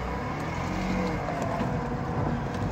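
A Toyota Celica's steady engine drones with road noise while driving, constant and fairly quiet with no talking; the car has a slight pulley noise.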